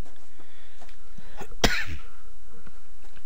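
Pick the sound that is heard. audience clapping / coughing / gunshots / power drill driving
coughing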